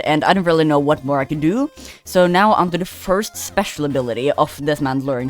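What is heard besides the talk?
No distinct noise like a dog, phone or traffic.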